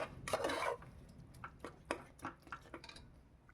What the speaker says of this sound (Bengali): দেখুন ভালো করে নাড়িয়ে চাড়িয়ে নিচ্ছি